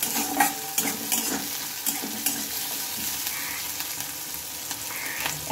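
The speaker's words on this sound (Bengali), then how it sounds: "এবার এগুলোকে আমি একটু ভেজে নেব।" Pointed gourd peel mixed with egg and chilli fries in a pan, a continuous close sizzle broken by repeated stirring scrapes and light clinks of a utensil, with no voice.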